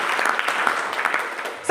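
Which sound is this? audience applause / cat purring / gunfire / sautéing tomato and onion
audience applause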